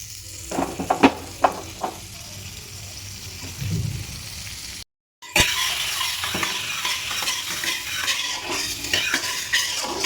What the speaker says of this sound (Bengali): কড়াই গরম হয়ে গেছে, কড়াইয়ের মধ্যে দিয়ে দেবো বাটার